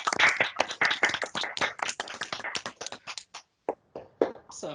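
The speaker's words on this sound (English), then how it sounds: "Everyone wants to unmute and just join me in giving Africa like a round of applause" Webinar participants clap for a presenter over unmuted microphones, producing a loose, uneven scatter of sharp hand claps that thins out into a few isolated claps near the end.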